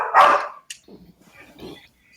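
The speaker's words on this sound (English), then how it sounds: "I can't hear you guys over the dog" A dog gives one loud, sharp bark, then a few softer yips and whimpers trail off, close by during an indoor tabletop game session.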